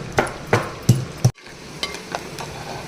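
Curry leaves crackle in a hot tempering inside a clay pot for greens and moong dal curry, a soft sizzle under a run of sharp, rhythmic spoon taps and scrapes against the pot.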